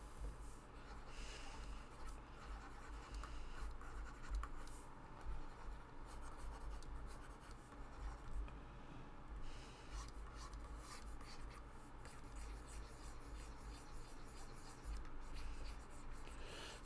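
Pencil sketching a comic panel on paper at a live drawing session, a steady soft scratching and rubbing that runs on throughout under a low room hum, with no talking.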